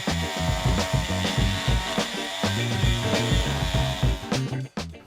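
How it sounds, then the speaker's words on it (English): An oscillating multi-tool fitted with a grout removing blade buzzes and rasps against shower tile grout, a loud, continuous gritty vibration that cuts off sharply near the end. "I'm going to use a multi-tool with a grout removing blade"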